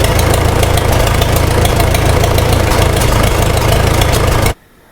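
A Farmall Super M farm tractor with leaky hoses and a charging fault, engine running: a loud, close, steady idle with rough rhythmic chugging that cuts off abruptly near the end.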